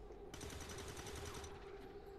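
Rapid automatic gunfire from an overwatch trap in the video game XCOM 2, a dense, steady burst of repeated shots lasting about a second, loud and continuous over a sustained low hum.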